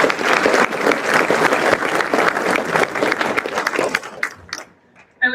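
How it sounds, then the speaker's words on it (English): A crowd at a USAFA cadet commissioning ceremony gives a loud, sustained round of applause. The clapping holds steady and then quickly tapers off toward silence. "Please join me in a round of applause in their honor."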